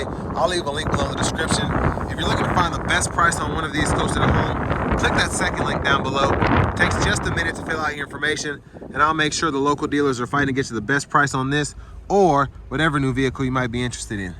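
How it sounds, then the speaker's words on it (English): Strong outdoor wind gusts buffet the microphone in heavy low rumbling bursts, loudest in the first half, under continuous talking from a man beside a Buick Envision Avenir. "I apologize for that wind gust there."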